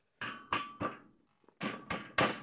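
Shelf parts are struck with a hammer, six sharp close blows in two sets of three with a short pause between, each ringing briefly after impact.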